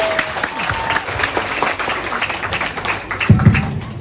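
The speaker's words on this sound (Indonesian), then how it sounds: "Tepuk tangan." Audience applause fills a room at a visit to a foundation in Sorong, Papua: dense, steady clapping from a crowd, with a few louder claps near the end.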